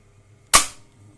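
An automatic transfer switch switches between biogas generator and grid utility power, giving a single sharp, loud mechanical clack that decays quickly in an otherwise quiet room.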